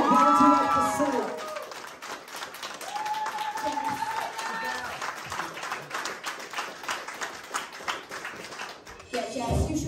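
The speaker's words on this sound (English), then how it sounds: "Can we have a round of applause for Jessica, guys?" Audience applause for contestant Jessica at a Welsh talent show quarter-final results, a steady wash of clapping and crowd noise running nearly ten seconds, with cheering and voices mixed in before it fades at the end.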